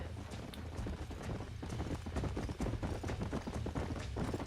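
Horse hooves clip-clop in the video game Red Dead Redemption while breaking and tracking horses, a quick continuous run of hoofbeats over a soft background bed.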